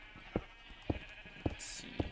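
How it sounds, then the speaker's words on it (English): Sheep bleating in the Minecraft video game, four short evenly spaced bleats about half a second apart over a steady low game-music background. "And you could hear all of the sheep."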